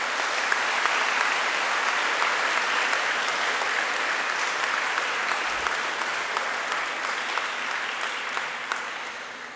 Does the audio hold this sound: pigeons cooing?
no